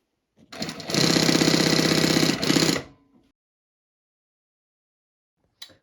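A Bridgesew 4420 double needle walking foot sewing machine runs at about 1,600 stitches per minute in one loud, rapid mechanical burst of around two and a half seconds, then stops into silence with a faint click afterward.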